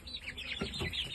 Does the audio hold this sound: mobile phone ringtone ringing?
no